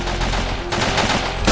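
Loud, rapid automatic gunfire from a video game rattles in a dense continuous burst, close and harsh.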